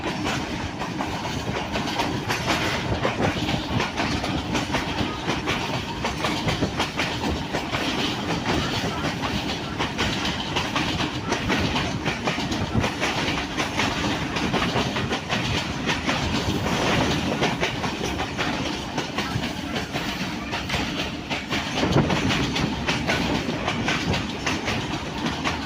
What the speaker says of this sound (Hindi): ट्रेन विक्टोरिया ब्रिज हरणपुर जेल से अबूर करेगी तेजी के